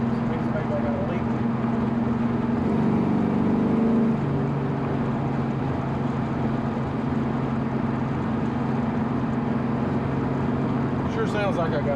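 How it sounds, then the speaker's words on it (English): Carbureted car engine idling with a suspected vacuum leak, a steady low hum with a faint airy whoosh near the carburetor, running continuously while someone talks over it. "it does sound like there's a little bit of a whooshing coming from like top of the carburetor"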